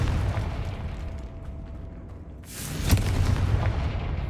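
A Confringo fire-blast spell in the video game Hogwarts Legacy detonates as a sudden whooshing burst followed by a sharp bang, loud and close, over a low rumbling game ambience.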